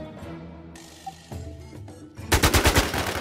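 Gunfire from the video game Warz in a player-versus-player match: a few scattered shots give way to a loud, rapid automatic burst of repeated cracks near the end, with no voices.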